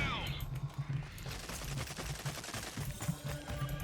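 Rapid gunfire bursts in the shooter video game Rogue Company, steady repeated shots throughout at moderate level, with a faint voice speaking over them.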